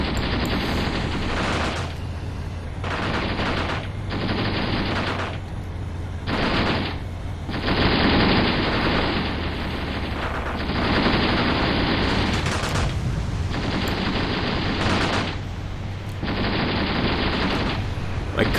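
Sustained bursts of gunfire in a Graviteam Tactics tank battle, rattling automatic fire in long repeated volleys separated by short gaps, loud and continuous with a low rumbling background.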